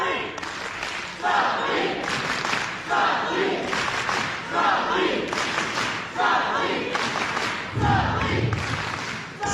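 A wrestling crowd at an LWA Insurrection event cheers and shouts continuously from start to finish, swelling in loud waves, with a heavier roar near the end.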